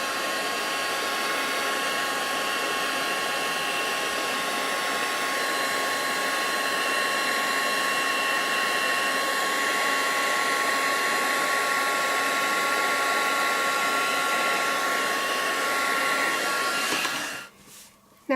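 A heat tool blows over embossing powder on a stamped card, giving a steady, close, loud whooshing roar that holds for about seventeen seconds and then cuts off abruptly.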